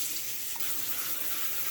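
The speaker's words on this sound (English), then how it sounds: "now I'm just going to put some cold water on here" Cold tap water runs steadily into a sink over Brussels sprouts in a strainer, a constant close hiss of splashing water with no talking.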